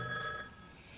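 A telephone rings once, a brief bright electronic trill that fades out quickly, heard alone.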